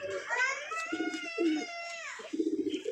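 A male pigeon coos in a few throaty, rolling phrases, close and fairly loud, with soft wing or body rustles between calls and no talking.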